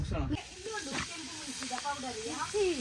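Mullet fish frying in a pan gives a steady hissing sizzle that runs throughout, with people talking over it.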